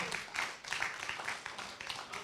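Congregation applause at a children's and youth church service, a dense, steady patter of many hands clapping at moderate distance, continuous throughout.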